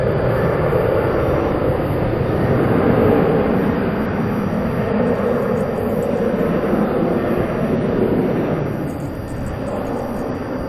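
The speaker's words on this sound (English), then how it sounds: "Prestwick, prepare for takeoff." An airplane taking off at a busy airport, a loud, sustained broadband jet roar that holds steady for about ten seconds and eases slightly near the end.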